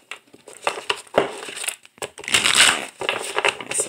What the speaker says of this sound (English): Let me quickly shuffle the deck